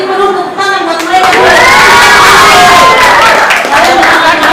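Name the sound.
audience applause for the dancers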